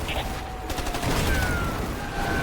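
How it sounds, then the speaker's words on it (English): Rapid gunfire and distant artillery thumps rattle through a North Korean battlefield in the video game Ghost Recon 2, a dense, loud burst of shots over a rumbling low backdrop with no one speaking. "The DPRK are starting an artillery barrage."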